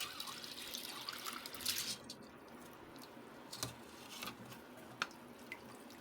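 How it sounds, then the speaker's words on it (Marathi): Soaked moong dal drains its water through a strainer, giving faint, close dripping and trickling with a few soft splashes and no speech. "आता आपण हे सर्व पाणी म्हणजे डाळ आपण चाळणीवर काढून घेणार आहोत।"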